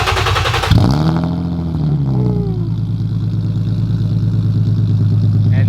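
Infiniti G37 sedan V6 with a Soho single exit wide-pipe exhaust, Burke high-flow cats and no resonator fires up: a quick starter crank, a loud rev flare, then a steady, close, rumbling idle that runs on alone.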